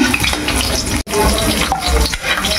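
Garlic sautéed in a pan for bopis: loud, steady sizzling and frying with scraping stirs and one brief break in the sound.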